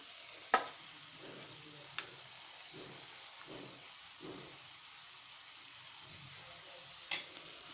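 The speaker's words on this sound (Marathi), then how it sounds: "पाच मिनटं सर्व भाज्या छान परतून घ्यायच्या" Mixed vegetables sautéed and stirred in a pan for a Bhogi festival dish, giving a steady soft sizzle with occasional sharp clinks of the spoon against the pan.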